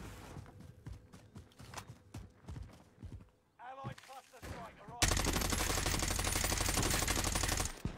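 Rapid gunshots crack and pop in a video game, in scattered bursts and then a dense stretch of sustained fire near the end. The shots are close and loud, with players talking over them.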